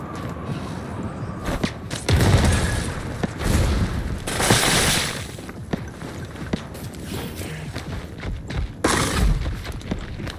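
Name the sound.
frost grenade explosions and gunfire in video game Once Human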